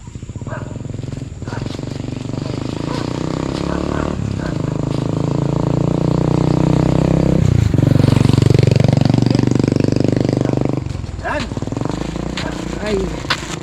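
A motorcycle engine runs nearby in a Filipino garden setting, a steady rumble that swells louder and revs toward the middle before easing off, with people talking over it.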